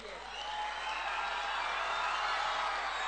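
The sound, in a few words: audience clapping at a rally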